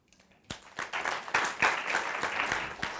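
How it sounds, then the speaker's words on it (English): A room full of people breaks into clapping after a brief quiet moment, building quickly into steady, moderately loud applause that continues to the end. "Now these people deserve a special clap."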